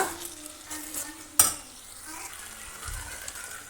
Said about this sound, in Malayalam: ഇനി തക്കാളി ഒന്ന് സോഫ്റ്റ് ആകുന്നത് വരെ ഒന്ന് വഴറ്റി കൊടുക്കുക.